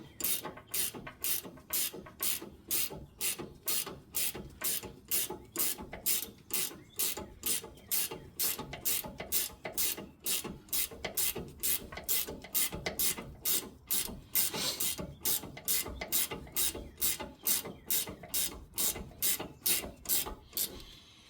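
A 15/16 wrench ratchets steadily to tighten a nut on a HaloLifts coilover, giving a long run of fast, evenly spaced metallic clicks close by with no talking.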